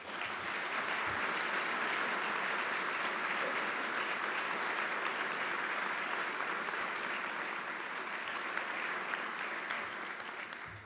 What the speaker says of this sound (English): please join me in a round of applause for our Coast Guard Auxiliary.